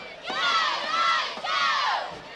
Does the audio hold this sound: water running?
no